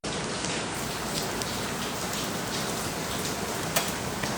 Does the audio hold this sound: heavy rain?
yes